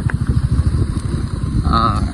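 Motorcycles pass close by at a roadside spot in Panchgaon, Netrokona, their engines rumbling in a steady low throb that carries through the whole stretch, with a brief higher whine near the end.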